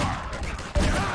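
Turret gunfire in the video game Half-Life 2 Synergy, a short rapid burst of shots with a heavier impact near the end, loud and close.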